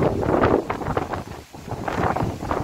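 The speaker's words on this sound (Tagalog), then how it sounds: "Lakas ng hangin." Strong gusting wind on a farm beside a very old tree, roaring and buffeting the microphone in uneven surges with a brief lull in the middle before blowing hard again.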